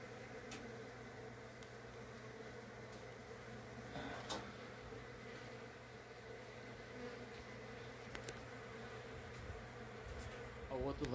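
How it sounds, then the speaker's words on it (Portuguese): Bees carrying pollen fly down to an Indian-style nest box with a steady buzzing hum. Several faint clicks and taps sit over the hum, and there is no clear speech. "essas abelhas estão descendo aí todas com pólen"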